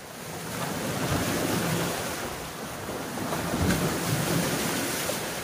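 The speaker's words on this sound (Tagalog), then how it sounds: "grabe ang alon na" Rough ocean waves crash and churn beside large rocks on a fishing shoreline, a steady roaring wash of surf with wind, rising and falling gently without pause.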